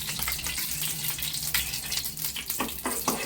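A tempering crackles in hot oil in a kadai, the oil reused from frying bread, a close, busy spitting sizzle with quick bursts of popping over a few seconds.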